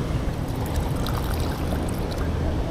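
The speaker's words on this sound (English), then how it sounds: "Putting this water in my bladder." Water poured steadily into a hydration bladder, a continuous close splashing rush with no pause and no speech.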